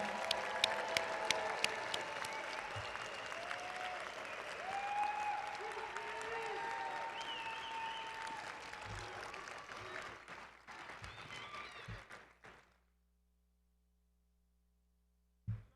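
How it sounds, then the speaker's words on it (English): Medical school graduates receive a long round of applause at a commencement ceremony, a broad crowd clapping with a few sharp nearby claps and faint voices, before it fades to near silence. "please join me in another round of applause for these graduates"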